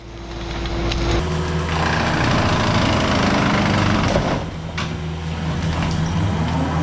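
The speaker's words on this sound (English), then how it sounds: "The brush mower on the skid steer is basically like a super powered lawnmower that can handle brush." A loud, steady engine drone from a skid steer with a brush mower attachment, its churning whir shifting pitch midway as it chews through brush, with no voices.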